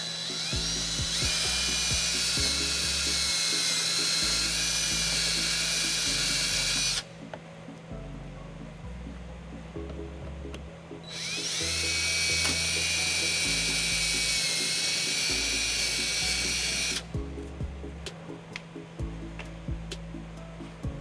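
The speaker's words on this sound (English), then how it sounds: "I go ahead and just drill some holes right through it." A high-pitched power drill whines loudly in two long bursts, biting through a metal trailer wiring bracket on a 2018 Hyundai Santa Fe with gritty grinding underneath, a brief lull between them.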